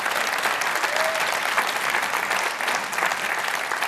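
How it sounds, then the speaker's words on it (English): A large conference audience at Cisco Live in Amsterdam breaks into dense, sustained applause after a presentation, loud and even throughout with no speech over it. "Give a huge round of applause to both of them."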